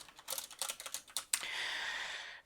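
Someone typing game script code on a computer keyboard: a quick burst of close, crisp key clicks, then a sustained soft hiss at the end.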